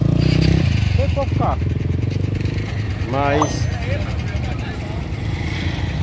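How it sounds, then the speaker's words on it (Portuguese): A motorcycle rides off a river ferry at Pão de Açúcar, Alagoas, its engine a steady, loud, close drone that rises briefly, while people talk nearby. "Primeiro está saindo uma moto."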